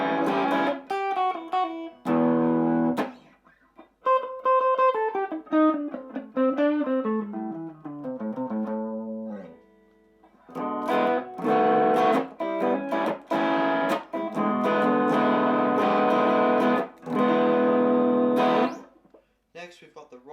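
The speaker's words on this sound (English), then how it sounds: "Next, we've got the blues overdrive," An overdriven electric guitar, an Artist LP59 through a Nu X amplifier on its blues overdrive mode, plays bluesy runs and chords with a reverb tail, notes ringing out between short pauses.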